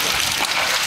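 Light rain falling steadily over a flooded backyard, a dense, even hiss of drops hitting water that stays constant and fairly close throughout.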